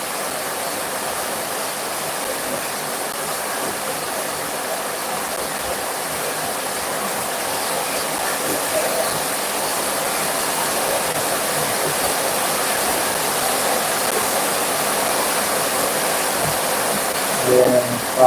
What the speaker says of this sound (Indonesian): dan hujannya mati deras